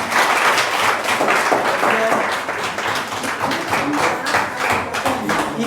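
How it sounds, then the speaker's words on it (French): Audience at a student association presidential election event applauding steadily, a dense, sustained wash of clapping with some voices mixed in. "applaudissez pour vous-même"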